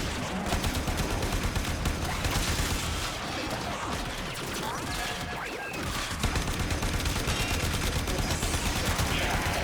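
Rapid, dense gunfire from a weapon in a video game, continuous loud bursts filling the whole stretch with a brief lull midway.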